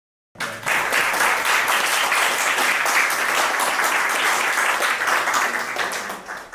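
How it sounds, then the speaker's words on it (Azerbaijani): A book-launch audience breaks into sustained, dense applause for the author after a short silence, steady and loud throughout with no pause. "Müəllifi bir alqışlayalım."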